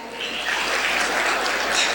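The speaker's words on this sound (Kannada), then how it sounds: "ನಿಮ್ಮೆಲ್ಲ ಮುಂದಿನ ಭವಿಷ್ಯದ ಶಿಕ್ಷಕರಾಗ ಬಯಸುವ ಪ್ರಾಶಿಕ್ಷಣಾರ್ಥಿಗಳಿಗೆ ನಿಮ್ಮ ಜೋರಾದ ಚಪ್ಪಾಳೆ ಬರಬೇಕು" An audience applauds loudly and continuously for trainee teachers at a government employees' association event, a dense wash of many hands clapping at once that holds steady, close and strong throughout.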